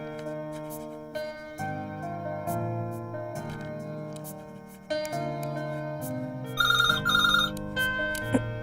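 A telephone rings with a repeating electronic ringtone melody, loud and close, cycling through its phrase several times with no voices over it.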